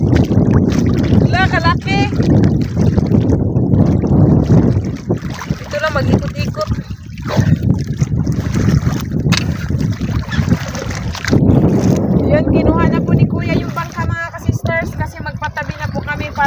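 A small paddled boat (bangka) moves through water off an island with steady splashing from paddling, buffeted by wind noise on the microphone while people talk nearby.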